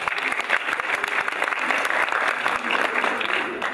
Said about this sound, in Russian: давайте похлопаем Наташе